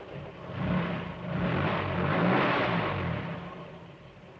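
Animated fire engine from the 1967 Trumpton children's series driving to a wall, heard as a steady mid-pitched engine rumble that swells, holds and slowly fades, with no talking.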